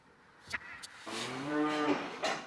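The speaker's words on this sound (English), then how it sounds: "These cows enjoy a meal in a warm, dry barn after being transported to higher ground." Cattle low in a warm, dry barn: a long, loud moo rises and falls close by, with softer shuffling and another brief call around it.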